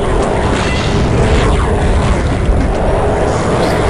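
Magic fire weapon, the life leech, firing in the DOS shooter Blood, a sustained loud roaring whoosh with rumbling low booms that continues steadily for the full few seconds.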